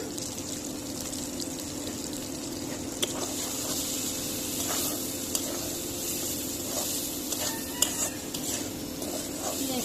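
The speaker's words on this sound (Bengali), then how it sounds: "এখন পটল আলু দিয়ে দিলাম" Pointed gourd and potato sizzle steadily in a hot pan with oil, a continuous frying hiss broken by occasional stirring scrapes and clinks of a utensil, close and even throughout.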